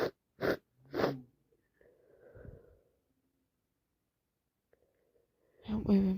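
A person with a heavy, wet cold lets out several close, sharp sneezes and snorts in quick succession, followed by a softer breathy sniffle, a long silence, then a louder burst of sniffing or voice at the end.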